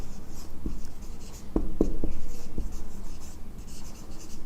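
Pen strokes on paper as a math problem is written out by hand for an SSC mathematics set exercise, a steady close scratching with several sharper taps, no voice.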